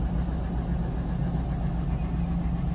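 Steady low rumble of a car engine idling just after being cranked up, a four-wheel-drive vehicle low on fuel at an insurance auto auction, continuous and even with no talk.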